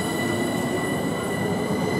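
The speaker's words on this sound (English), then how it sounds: "There goes the train." A GWR Class 387 electric train rumbles past close by at Ealing Broadway station, steady and loud, with a metallic wheel squeal running through the whole stretch.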